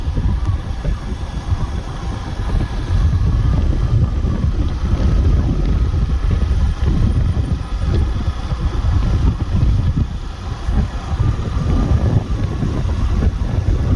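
Loud, steady wind buffeting the microphone with a low engine rumble underneath, as from riding a motorbike at speed on a cool moonlit night.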